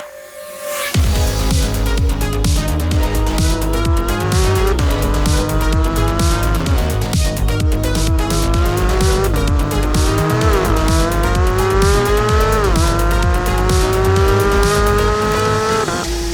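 A 2022 Porsche 911 GT3 with launch control driving on a wet surface: a loud, continuous engine roar climbs through repeated rising sweeps, with a brief dip at each gear change, and tire hiss throughout.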